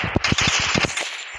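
Rapid gunfire from a shooting video game lands a headshot, a quick burst of sharp closely spaced shots over about a second, then a brief gap before another shot.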